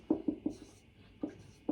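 A teacher writes out a Class 10 maths solution, with short taps and strokes coming in quick bursts, close and quiet, with no talking.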